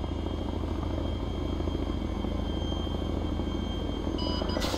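Helicopter in the military video game ARMA 3, a steady loud rotor chop and engine rumble droning continuously throughout, close and unbroken, with no voices over it.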